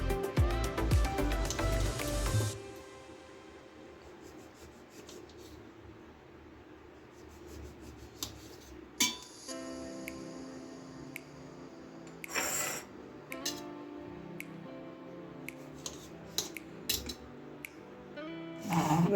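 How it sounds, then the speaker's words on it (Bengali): A knife cutting lemons for a jaggery drink: a few sharp taps and clicks scattered over a faint, steady background, with a louder clatter at the start and no talking. "এবার আমি লেবুগুলোকে কেটে নেব"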